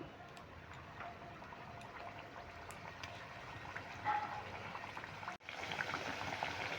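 Sweet potato jilipi fry in hot oil with a soft, steady sizzle and fine bubbling, quiet and close, with a brief handling clatter partway through.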